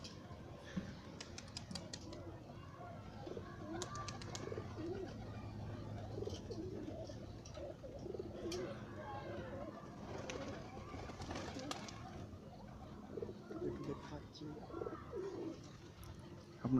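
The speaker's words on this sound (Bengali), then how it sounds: "পায়রাগুলো নামছে" Paper pigeons coo and flutter while landing, heard at moderate distance over a busy outdoor background with scattered wing flaps, mixed with people talking.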